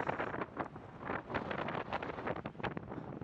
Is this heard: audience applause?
no